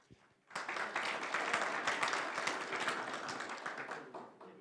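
After a brief hush, a dense burst of applause breaks out at an awards gala honouring leading municipalities, many hands clapping steadily and fairly far off, holding level to the end with no talk.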